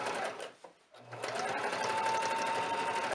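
A sewing machine runs a straight stitch along a curtain hem, a fast steady mechanical whirr that briefly pauses then resumes, close and continuous with a faint rising whine.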